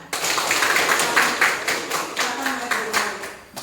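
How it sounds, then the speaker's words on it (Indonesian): Classroom audience of students clapping together, a steady dense patter of many hands lasting a few seconds, fairly close and with no talk over it. "tepuk tangan."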